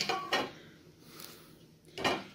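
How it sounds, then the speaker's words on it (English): A metal plate is handled during packing of an SUV for a trip, giving a few sharp metallic clanks near the start and again near the end, with quieter rattling in between. "I have one metal plate"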